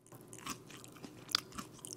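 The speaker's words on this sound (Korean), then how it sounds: "와, 아삭아삭해. 진짜 너무 아삭아삭해." Camping-cooked vegetables are bitten and chewed close up, giving a few soft, irregular crunches and wet chewing noises at low volume, with no talk.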